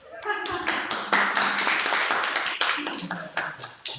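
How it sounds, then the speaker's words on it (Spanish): A small workshop group claps close by, a scattered patter of individual hand claps with sharp separate strikes rather than a dense roar, lasting the full few seconds at moderate level. "Otro aplauso."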